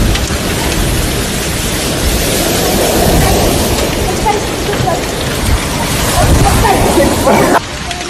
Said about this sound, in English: Strong winds and hail